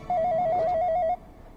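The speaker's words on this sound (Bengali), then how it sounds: "ফোন আসছে আমার।" A phone ringtone sounds for an incoming call, a steady repeating electronic melody of about one second that stops abruptly, followed by quiet room tone.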